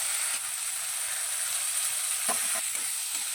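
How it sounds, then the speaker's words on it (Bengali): Raw chickpeas and potato being stirred through spices in a pan, a steady sizzle throughout with a couple of soft scraping strokes near the end, close and alone with no talking. "ছোলাটা আলুর সঙ্গে খুব ভালোভাবে নেড়ে চেড়ে মিশিয়ে নিচ্ছি।"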